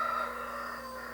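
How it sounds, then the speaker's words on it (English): A rooster crows once at a distance, a faint drawn-out call over a steady low hum, with no talk. "Too many of them roosters going off all the time"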